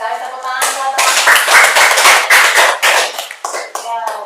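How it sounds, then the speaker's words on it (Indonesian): A classroom of students claps for their classmates, a burst of brisk, overlapping clapping that builds quickly and then tapers into a few scattered claps, with a voice speaking briefly before and after. "Tepuk tangan buat teman-teman."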